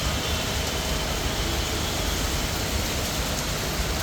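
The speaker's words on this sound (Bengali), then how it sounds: "শিলা বৃষ্টি হচ্ছে" Hail and rain pour down in Dhaka in a dense, steady roar of broadband hiss with no gaps, close and loud throughout.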